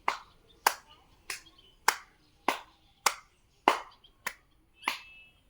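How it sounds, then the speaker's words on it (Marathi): Nine sharp hand claps in a steady rhythm, roughly one every 0.6 seconds, alternating in front of and behind the body as a shoulder exercise for a stiff, frozen shoulder; close and crisp with quiet gaps between. "समोर टाळी मागे टाळी,"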